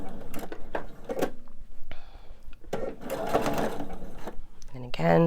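A home sewing machine stitches the final seam of a fussy-cut Rock Candy quilt, its motor whirring in several close bursts separated by pauses, with a soft voice talking between runs and clicks of handling.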